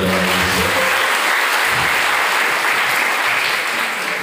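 Seminar audience at a public speaking event in Bogor clapping loudly and continuously, a thick wash of many hands with a speaker's voice trailing off at the start.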